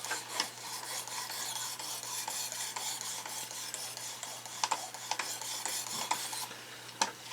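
A knife, a yard-sale Paladin blade, is drawn over the stones of a Work Sharp Precision Adjust sharpener in steady rasping strokes, soft and close, with a few sharper scrapes near the end.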